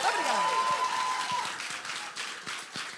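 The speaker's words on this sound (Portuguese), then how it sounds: "quero pedir primeiro uma salva de palmas para a doutora Luciana." A studio audience on a television talk show gives a short round of applause that tapers off into scattered individual claps, heard at moderate volume.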